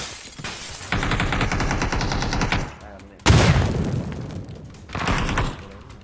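Loud close gunfire in PUBG, sustained automatic bursts in three blocks separated by short gaps, with a booming shot, played alone without talk.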